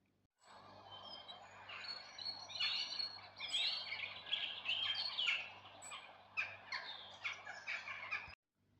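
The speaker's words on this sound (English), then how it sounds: "Birds chirping." A flock of birds chirps and squawks in a busy, overlapping chorus, fairly faint and steady, with no voices.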